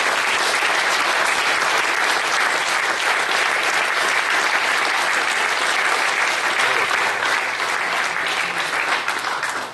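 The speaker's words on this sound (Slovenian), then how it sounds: "Mislim, da si zaslužita še en aplavz na tem mestu." Sustained, dense applause from a crowd at a Slovenian youth political anniversary gathering, loud and continuous for about ten seconds before cutting off.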